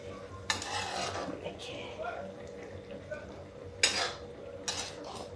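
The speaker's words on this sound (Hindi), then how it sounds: "और टमाटर के साथ ही नमक डाल दें। धीमे से चला देते हैं।" A utensil scrapes and clinks in a cooking pan, stirring tomatoes with salt. A few sharp scraping strokes stand out against a quiet background, and a faint voice can be heard.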